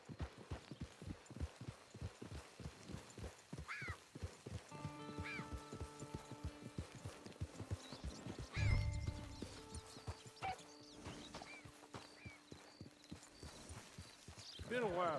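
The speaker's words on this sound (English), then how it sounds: "It's your horse." A horse in Red Dead Redemption 2 trots with rapid, regular hoof clops up close, then slows and snorts, with game music and character voices talking over it.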